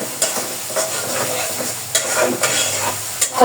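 Spice masala with garam masala powder being stirred and sautéed in a pan while cooking quail, with a loud, steady sizzle and repeated scraping strokes of a spoon. No voices are heard.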